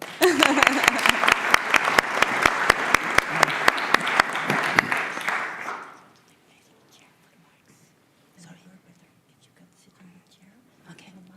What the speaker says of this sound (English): And a round of applause for Manuel.